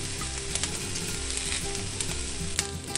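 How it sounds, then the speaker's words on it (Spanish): Chilies and tomatoes roast on a hot griddle with a steady, close sizzle and crackle that runs throughout without a pause. "Conforme se van asando, los vamos volteando."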